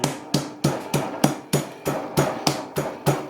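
Red and green chillies are pounded for Thai papaya salad (som tam) with steady, evenly spaced thuds, about ten close, heavy strikes in a mortar, with no talking over them.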